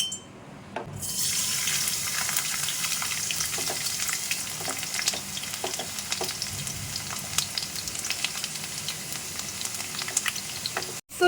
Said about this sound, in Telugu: ఆయిల్ హీట్ అయ్యాక ఇందులో మనం ఇట్లా చిన్నగా చాప్ చేసుకున్న వెల్లుల్లిని యాడ్ చేసుకోవాలి